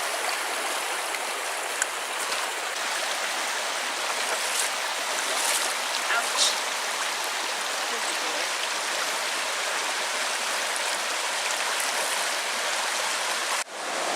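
A waterfall and stream on the Carp River hiking trail rush in a steady, broadband wash of flowing water, constant and fairly close, with no talk over it.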